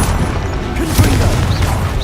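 Confringo blasting-spell explosions in Hogwarts Legacy, a loud booming rumble with a sharp crashing hit near the middle and crackling debris after, close and dense throughout.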